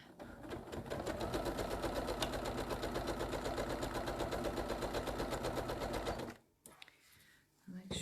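A sewing machine stitches wildlife quilt panels in a fast, even mechanical chatter for about six seconds, then stops abruptly, leaving quiet room sound and a brief voice near the end.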